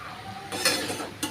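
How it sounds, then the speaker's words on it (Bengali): Soybean and egg curry is stirred and sautéed in a pan, a brief close burst of scraping and sizzle swelling after a quieter start, then a short final scrape. "অবশ্যই ধরেই কষাচ্ছি তরকারিটা, যাতে টেস্ট আছে।"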